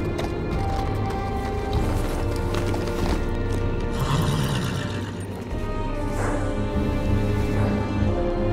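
In a Game of Thrones adventure video game set at the Wall of the Night's Watch, a horse clip-clops and whinnies over a dense, steady bed of game music and ambience.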